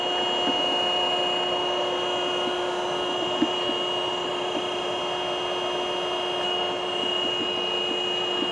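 A reducing and beading machine, model RCP 8500 A SR SB 2ST, runs with a steady, loud mechanical whir and hum that holds evenly throughout, with a few faint clicks and no speech.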